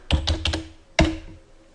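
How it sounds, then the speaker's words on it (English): A computer keyboard is typed on up close while a password is entered, four quick keystrokes in a burst followed by one firmer tap. "Type in my password."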